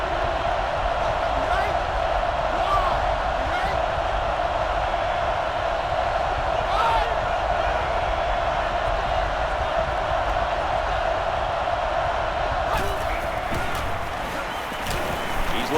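A packed stadium crowd roars in the NCAA Football 09 college football video game, a loud, steady wall of cheering that holds without a break and eases slightly near the end.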